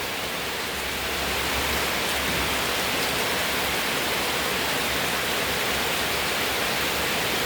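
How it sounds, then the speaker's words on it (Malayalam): Heavy rain falls steadily on a home and the flooded paddy field beside it, a dense, even hiss of downpour that holds unbroken and alone throughout. "നല്ല മഴ അങ്ങനെ ഉപ്പ് കൂടി വരികയാണ് കേട്ടോ"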